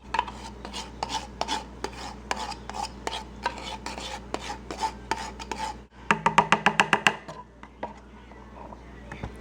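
A spoon scrapes leftover chocoflan cake mixture out of a container in a series of quick rasping strokes, close and crisp, ending in a faster, louder burst of scrapes before trailing off.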